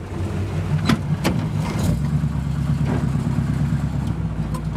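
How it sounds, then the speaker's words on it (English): An older car's engine idles cold on its automatic choke, held at a raised idle: a steady, loud, close rumble with a few sharp clicks early on. "Cold, the automatic choke wants to keep it idled up a little bit until it warms up."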